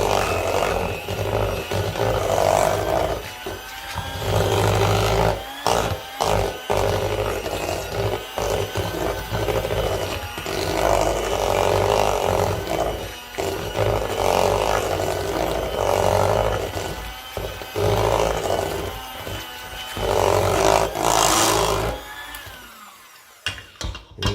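An electric mixer whirls jalapeño raspberry thumbprint butter cookie dough, a loud close motor whir that runs in long stretches, broken by short stops and bumps before cutting off at the end.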